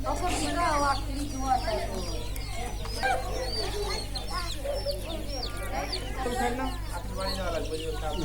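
Kadaknath chickens kept by a women's self-help group cluck and chatter continuously, a busy flock of overlapping calls over a steady low hum.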